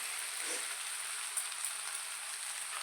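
Eggplant and egg frying in a pan, a steady close sizzle with soft crackle throughout, faint and continuous with no talk.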